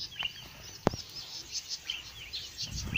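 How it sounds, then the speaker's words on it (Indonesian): Thin, high chirps and short calls from a small red-headed cisticola, fairly faint over a quiet outdoor background with a single sharp click. "indukan cici padi kepala merah sedang berbunyi"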